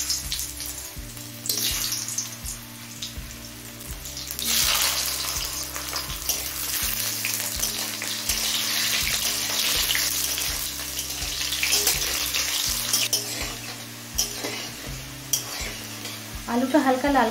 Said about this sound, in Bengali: আলুটা হালকা লাল করে ভেজে নিয়েছি।